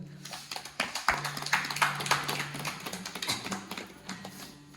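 Several people at a farewell gathering clap in rapid, irregular bursts, fairly close but moderate in level, over a faint low background hum.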